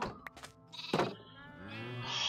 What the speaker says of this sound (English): Magenta sheep is okay.